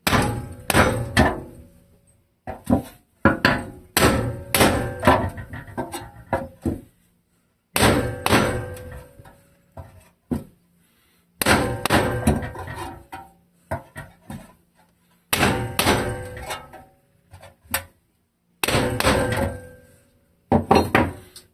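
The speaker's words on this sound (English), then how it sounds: "This hammer has a little bit more weight." A heavy hammer pounds on a Wisconsin Model AB engine part late at night, loud close thunking blows in rapid clusters separated by short pauses.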